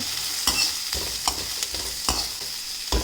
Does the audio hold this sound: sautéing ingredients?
yes